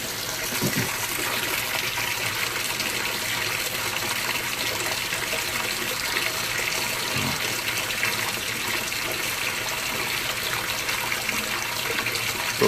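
Steady rushing water pours into a GE Profile Harmony washing machine tub at an even rate, a continuous hissing gush with occasional faint clunks underneath.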